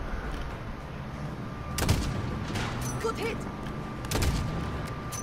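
Call of Duty Modern Warfare campaign gunfire: a few sharp, loud shots and short bursts crack out over a steady battle din, with a voice talking between them.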